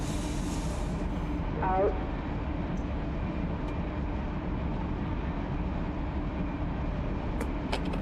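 Union Pacific freight unit train rolling past a trackside detector, a steady loud rumbling roar of rail cars throughout, with brief voice over a radio in the background.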